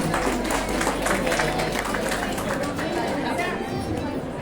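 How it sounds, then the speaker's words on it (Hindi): Women's community gathering in Mumbai where the audience breaks into loud, continuous applause mixed with crowd chatter for an honoured guest, sustained clapping throughout. "एक बार जोरदार तालियां।"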